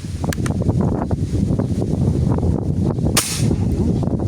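A single sharp, loud gunshot from a converted Taurus pistol cracks out near the end, fired into the ground, over a rough background of wind buffeting and rustling.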